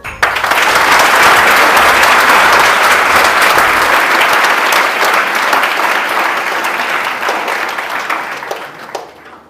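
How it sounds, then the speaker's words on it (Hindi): A crowd at a NEET results celebration bursts into loud, thick applause for a student, a steady roar of clapping that holds for about nine seconds before tapering off. "फिर से जोरदार ताली"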